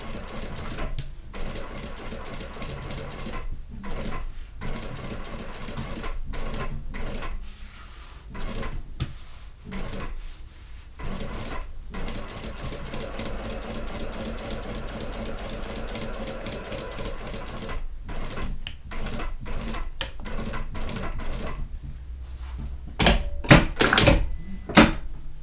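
A sewing machine stitches a handbag slowly around small curves, running in rapid mechanical bursts broken by short pauses, close and steady, ending in a few louder clunks.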